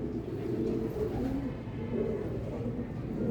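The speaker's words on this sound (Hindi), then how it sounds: "फिरोजपुरी कबूतर है और साथ फिरोजपुरी मादी है" A Ferozpuri pigeon coos softly in repeated low throaty phrases, close by, over a faint background murmur.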